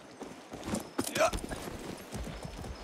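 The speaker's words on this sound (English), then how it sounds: "That's a good horse." Hooves of a ridden horse clip-clop in the Far Cry 6 video game, a quick uneven run of thuds mixed with game sound and talking.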